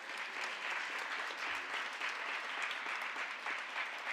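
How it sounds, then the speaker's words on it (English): A ceremony audience at an awards and honor society induction event claps in a dense, continuous wash of applause, sustained and even throughout, heard from some distance and fairly quiet. "you guys should give her a giant round of applause"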